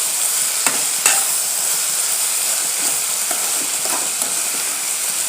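Turmeric being stirred into a dondakaya (ivy gourd) curry in a frying pan: a steady, close sizzle and hiss with a few sharp scrapes and knocks of the spoon against the pan, and no voices.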